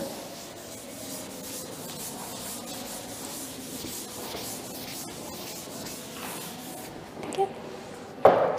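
Steady rubbing as writing is wiped off a classroom board, a continuous dry scrubbing lasting several seconds, followed by a couple of brief knocks near the end.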